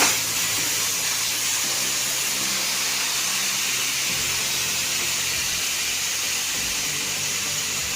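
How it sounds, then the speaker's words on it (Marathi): Steam hissing steadily from a pressure cooker being vented after its first whistle, with sweet corn cooked inside. The release is loud, constant and broadband, continuing without a break, with no talking. "कुकरची वाफ काढून घेऊ"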